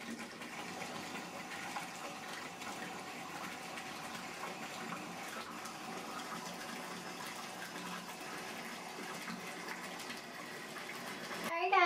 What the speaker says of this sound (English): I am going to turn on my water and fill up my tub the rest of the way